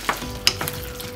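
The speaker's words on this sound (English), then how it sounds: "Give it a stir up." A spoon stirs chicken pot pie filling with creamed sweet corn in a hot pan, giving a few short scraping strokes over a soft sizzle, close and fairly loud.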